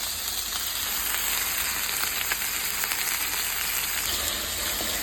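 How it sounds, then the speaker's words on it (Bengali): Onion, garam masala, bay leaf, cardamom and cinnamon fry in hot oil for a home-style chicken roast, giving a steady, even sizzle that carries on without pause and with no voices. "আর এখানে আমি পেঁয়াজ, গরম মশলা, যা যা লাগে, তেজপাতা, এলাচ, দারচিনি একটু বেজে নিচ্ছি"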